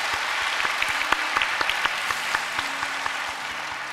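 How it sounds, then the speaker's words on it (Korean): A church congregation applauds together during a New Year's Eve service, with steady, dense clapping from many hands that fills the room for the whole stretch. "이 모든 일을 이루신 하나님께 감사와 영광의 박수 드리도록 하겠습니다."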